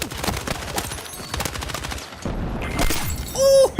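Carbine in Battlefield 6 fired in rapid full-auto bursts, sharp, evenly spaced shots cracking close and loud, a brief pause, then more firing and a short electronic tone near the end.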